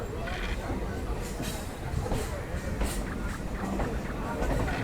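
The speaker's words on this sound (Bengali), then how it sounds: "আমাদের ট্রেন এখন ঢুকছে হচ্ছে বাগবাজার স্টেশনে" A train rolls into Bagbazar station in Kolkata with a dense rumbling clatter of wheels and carriages, heard close and continuous from on board.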